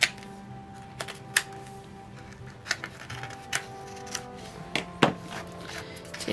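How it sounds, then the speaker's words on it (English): Scissors cutting thread while binding book signatures, a few sharp, sparse snips and clicks spread over a quiet background hum, close and isolated with no talk. "And then just cut the thread."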